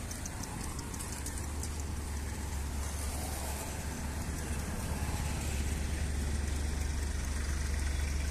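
Motorcycle engine idling at a road junction, a steady low rumble under constant traffic noise throughout, with no talking.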